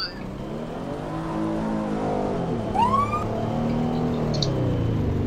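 Rescue squad truck in a Roblox fire department game circling with a continuous engine drone that rises and falls, a short rising siren-like whoop in the middle, at moderate level with no talk.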